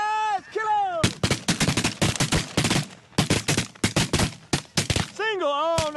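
Shotgun shots fired in a rapid volley during a Texas bird hunt, many sharp blasts packed together across several seconds with a few gaps, close and loud, bracketed by bird calls at the start and end.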